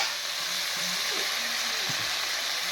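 Radish frying in a pan as it cooks with salt and turmeric, a steady close hiss of sizzling oil running throughout the short stretch, with faint low murmurs in the background.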